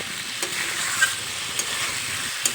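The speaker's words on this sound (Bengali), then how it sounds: "আবার একটু নেড়ে চেড়ে নেব মশলার সঙ্গে ফুলকপি আলু খুব ভালোভাবে মিশিয়ে নেব" Potato and cauliflower pieces are stirred through hot, sizzling spice masala in a pan, a steady close-up frying hiss broken by a few sharp spatula taps.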